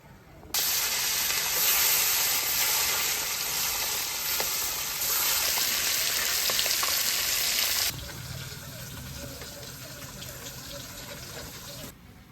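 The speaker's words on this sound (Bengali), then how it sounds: "বড় মাছ কটা তো ভাজা হয়ে গেছে" Pieces of large pond fish fry loudly in hot oil in a pan, a steady dense sizzle that drops to a quieter crackle partway through; no talking.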